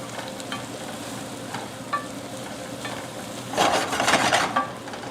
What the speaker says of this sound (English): I really want to give the onions a good cook, good sizzle